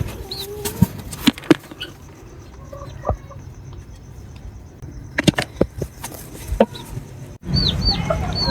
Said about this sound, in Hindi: मुर्गियों ने भी बहुत ज़्यादा शोर मचाया हुआ है